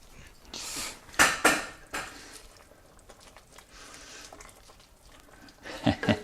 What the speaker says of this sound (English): So I think I'll get the kale in now. Stir that in.